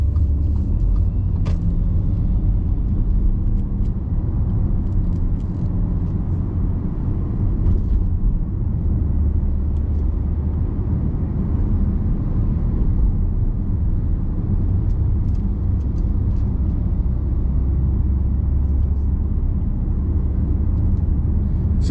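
Inside a 2013 Audi SQ5 3.0 BiTDi Tiptronic quattro on a test drive, steady low engine and road rumble drones continuously with tyre noise and faint rattles, and no one speaking.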